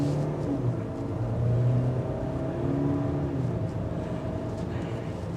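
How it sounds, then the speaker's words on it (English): A 2023 Range Rover Evoque Dynamic S accelerates on the road, with a steady droning engine note and tyre and road rumble that stay loud and continuous throughout. "you get a touch of the drone note from that engine"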